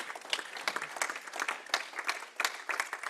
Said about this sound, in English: A big round of applause once again to my panelists.